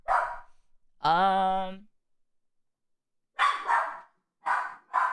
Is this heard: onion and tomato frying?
no